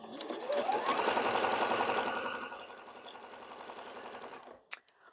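A Juki sewing machine runs at a steady fast stitch for about four seconds, close and loud, easing slightly in pitch before stopping with a small click at the end.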